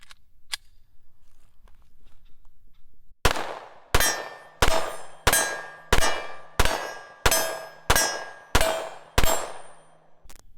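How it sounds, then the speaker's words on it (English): Glock 26 Gen 4 9mm compact pistol firing a magazine outdoors, ten sharp, loud shots at an even, brisk pace, each with a short ringing tail, after a few seconds of quiet. "Now let's go ahead and shoot a mag."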